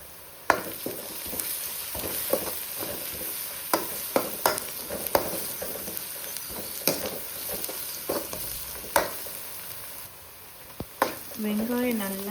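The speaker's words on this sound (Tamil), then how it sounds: "வெங்காயம் நல்லா வதங்கட்டும்." Onions sautéing with turmeric in a pan for tomato rice: a steady sizzle with repeated sharp scrapes and taps of a spoon stirring at irregular intervals, close and fairly loud, with no talking.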